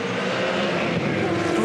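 V8 Supercar race cars roar loudly at the Adelaide 500 street race, a steady dense engine drone with a faint rising pitch, continuous and close throughout.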